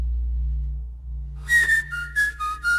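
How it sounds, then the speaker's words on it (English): AI-generated sound design: a low droning bed gives way to a few short, bright whistled notes near the end, close and fairly clear. "Get some whistling at the end."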